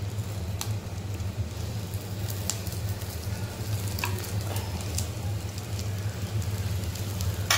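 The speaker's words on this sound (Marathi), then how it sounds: "मिरच्या खालूनही व्यवस्थित फ्राय झालेल्या आहेत" Green chillies frying in a pan for a spicy chilli fry, a dense, loud, constant crackling sizzle like rain on a surface, with scattered sharp pops throughout and no speech.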